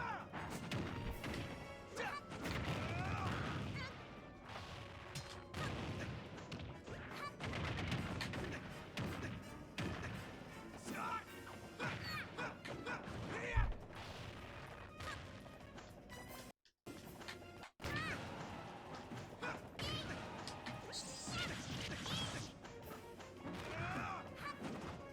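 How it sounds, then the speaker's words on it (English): Crashing, booming explosion effects from a video game fill the stretch in dense repeated bursts, loud and close, with a brief dropout near the middle. "It's a cool explosion."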